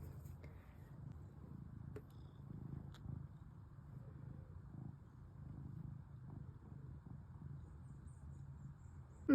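A domestic cat purrs close by in a quiet room, a soft, steady low rumble that swells and eases in a slow breathing rhythm, with a few faint clicks over it.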